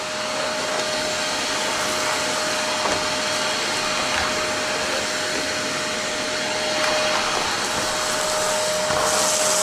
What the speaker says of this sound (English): You can start hearing different sound in the vacuum cleaner when actual like grain is going through.